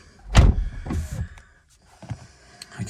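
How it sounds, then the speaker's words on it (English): A BMW M240i car door shuts with a firm thud, followed by softer clunks and rattles of the door settling. "I'll close the door up."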